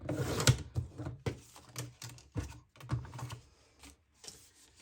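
Paper being cut with scissors while trimming the side of a sheet for a junk journal folio, a series of quiet, close snipping and rustling strokes in an irregular rhythm with short pauses, no talking.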